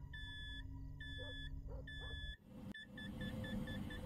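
In the Fears to Fathom Carson House video game, an electronic device beeps in steady repeated tones, first slow and longer, then quicker and shorter after a brief thud, over a low hum.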